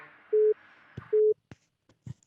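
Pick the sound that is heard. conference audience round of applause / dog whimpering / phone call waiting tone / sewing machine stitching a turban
phone call waiting tone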